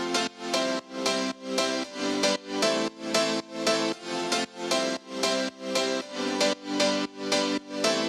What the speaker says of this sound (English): Our drop piano itself sounds like this.